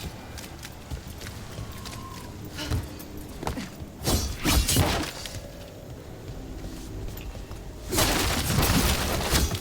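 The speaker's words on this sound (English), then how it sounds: "So I smashed the crystal" A crystal being smashed in the video game Dragon Age The Veilguard, heard as several sharp crashing bursts and breaking impacts separated by quieter gaps, with a final loud burst near the end.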